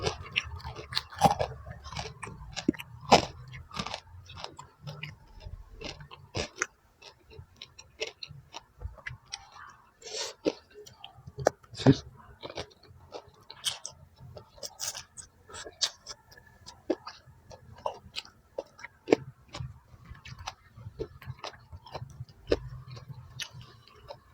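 Crunchy bites of crispy pork rinds eaten alongside a spicy Thai squid papaya salad, with many sharp close crackling crunches repeating steadily through the whole stretch and no talk.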